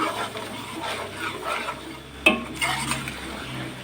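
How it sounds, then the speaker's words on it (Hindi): Chicken, potatoes and spices stir-fried in a pan, with a spatula scraping and clinking against the metal in steady rhythmic strokes over a low sizzle, close and moderately loud. "चिकन और आलू को और मसाले को 2 से 3 मिनट भूनूंगी"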